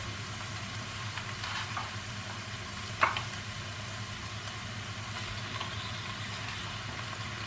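Minced meat, about 300 grams, sizzles with browning onions in a pan: a steady, even frying hiss with one sharp utensil clink midway and no voices.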